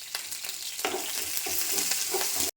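Crushed onions fry in a pan with curry leaves and green chilies, a close, loud crackling sizzle with a few sharp clicks of stirring, ending abruptly.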